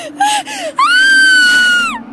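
A woman screams, with two short rising-and-falling cries followed by one long, loud sustained shriek that trails off, close and alone over a low background hum.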